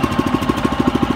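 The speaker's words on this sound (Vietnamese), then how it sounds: "Để nổ máy cho anh em nghe." A small engine of a tracked vehicle starts, chugging and knocking in a fast, regular rhythm, loud and close, with rough low pulses.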